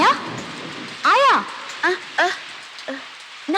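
Heavy rain pours in a Tamil film scene as a steady, wash-like hiss in the background, with a voice calling out loudly in several bursts over it.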